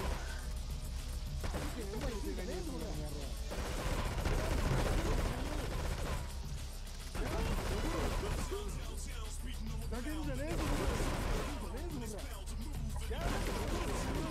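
Gunfire in the video game GTA 3 on PC, with repeated bursts of shots and crashes over loud constant game noise while voices talk over the action throughout.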